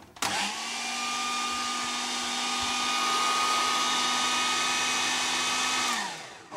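A food processor whizzes a creamy tiramisu mixture in a steady, loud, close whir that starts abruptly, holds for about six seconds and then winds down to a stop.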